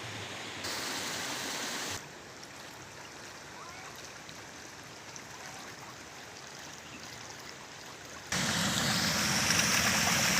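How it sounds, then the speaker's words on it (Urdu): Water from a stone-cut channel falls hard behind a water mill, a steady rushing roar like a small waterfall, loud and continuous, with its level shifting sharply as the sound gets nearer or farther. "اور نالی کا پانی یہ پن چکی کے بیک سائڈ پر ایک آبشار کی طرح زور سے نیچے گرتا ہے۔"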